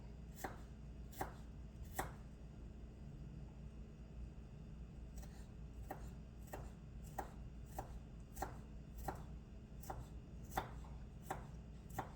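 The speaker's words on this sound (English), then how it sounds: "And you're going to mince this up." Knife chopping through food on a cutting board while mincing, evenly spaced crisp thuds repeating roughly every half second, close and clear over a steady low hum.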